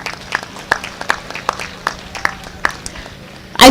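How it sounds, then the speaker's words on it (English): Sparse, scattered clapping rises from the audience at a university graduation ceremony, with separate claps in an uneven rhythm. A loud burst cuts in at the very end. "Let's give them a huge round of applause."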